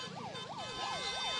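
An ambulance siren wails in a steady, repeating rise-and-fall cycle, loud and continuous, as the ambulance sits stuck in a traffic jam during a state-level protest.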